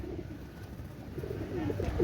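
A pair of pigeons at a seller's loft coo softly and steadily up close, a continuous low rolling murmur that grows slightly louder toward the end, with no talking.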